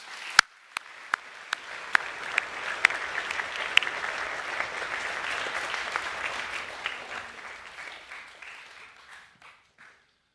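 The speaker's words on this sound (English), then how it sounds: "Can we give them another round of applause, please?" Audience applause fills a school awards assembly for Years 8 and 9, a dense steady wash of clapping from a large crowd with a few sharp claps standing out early on, then tapering off toward the end.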